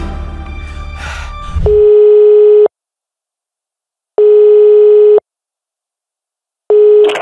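Telephone busy signal: three loud, steady single-pitch beeps of about one second each, separated by silent gaps, following a stretch of muffled, noisy background.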